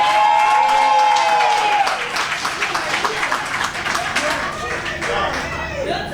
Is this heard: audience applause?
yes